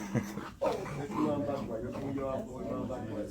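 A dog whimpers and yips in short bursts close by, mixed in with a person talking over it throughout.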